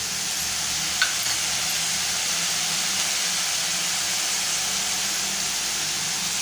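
Shelled green peas going into a pan of sizzling cabbage, with one faint tap near the start followed by a steady, loud, hissing sizzle that carries on unbroken.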